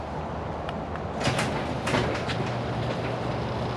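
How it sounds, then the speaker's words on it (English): An old garage door rolls open with a low continuous rumble and a few rattling clanks of its panels, moderately loud and close, with no talking. "The old garage door, but still works fine."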